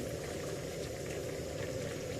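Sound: rawas (Indian salmon) fish curry boiling in pot

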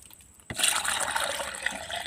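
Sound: pouring water to make camphor pesticide solution

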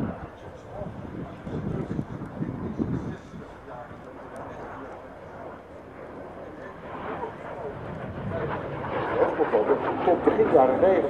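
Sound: MiG-15 jet aircraft flying at air show

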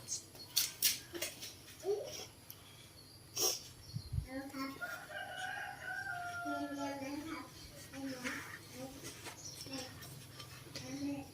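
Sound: rooster crowing

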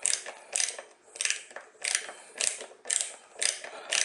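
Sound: ratchet screwdriver driving a screw into wood

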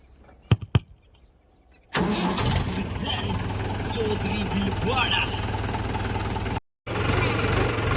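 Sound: tractor engine starting

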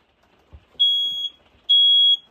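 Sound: smoke alarm beeping

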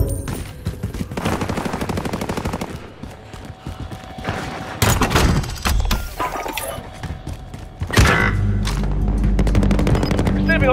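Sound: gunfire in video game Call of Duty Warzone

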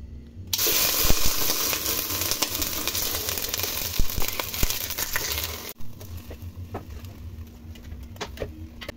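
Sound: cut pork ribs frying in lard in a pot

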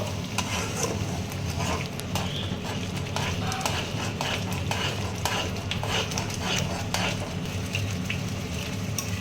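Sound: stirring cashew and poppy seed paste with prawns in pan

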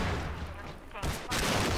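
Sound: gunfire in the video game Half-Life 2

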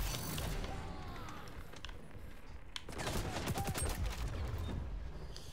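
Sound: gunfire in the video game XDefiant

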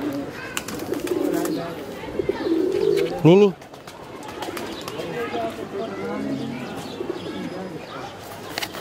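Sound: high-flying pigeons cooing

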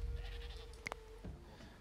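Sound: sheep bleating in video game Dawn of Man

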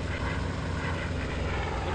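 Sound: A-1 Skyraider propeller aircraft engine in video game IL-2 1946

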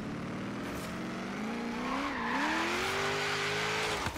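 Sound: car tires spinning loose while drifting, Forza Horizon 3 video game

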